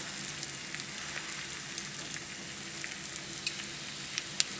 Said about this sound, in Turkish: Bir tane ekmeğimizi alıyorum böyle. Üstüne bastırıp kızartıyorum.